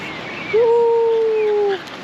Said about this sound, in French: Elle mange les cailloux, on jette les cailloux, elle va chercher.